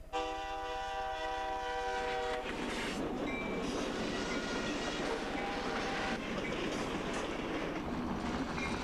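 A Twin Cities and Western freight train rolls past at about 30 miles an hour, its horn blaring at first, then a loud continuous rumble of wheels and cars with rhythmic clatter and screeching brake tones.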